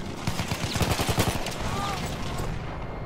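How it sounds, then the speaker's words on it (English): Machine gun fire in the video game Battlefield 1, a rapid string of sharp bursts close by for about a second, then fading into a lingering battlefield rumble. "Enemy machine gun over there."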